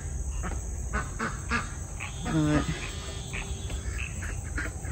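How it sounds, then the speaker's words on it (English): Frogs croak outdoors against a steady insect-like chorus, with a louder, buzzy burst of calls midway and a brief voice near the start. "those are the frogs."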